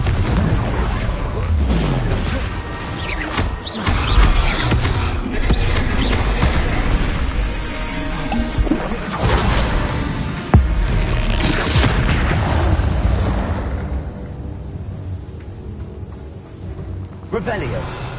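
Explosive Confringo spell blasts in the video game Hogwarts Legacy: heavy booming impacts with rumbling tails, loud and dense through the first part before thinning toward the end, with a sharp blast near the middle.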